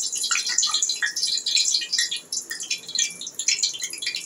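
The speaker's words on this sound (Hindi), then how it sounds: "ये ऑयल हमारा गर्म है तो ये फ्राई हो रहा" Mash dal dahi bara batter fries in hot oil, giving a close, steady crackling sizzle with dense bursts of popping spatter throughout.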